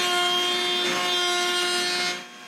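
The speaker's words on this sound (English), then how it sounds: "I cut the groove." A router fitted with a box-bottom grooving bit cuts a groove into a clamped wooden kitchen recycling bin, a loud sustained high whine with a rough cutting edge, steady and close, easing off at the end.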